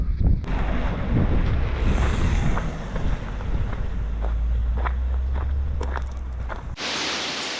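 Strong wind at Lac de Carcès buffets the microphone with a constant roaring rumble, along with scattered crunchy footsteps and clicks, before an abrupt cut to a steady hiss.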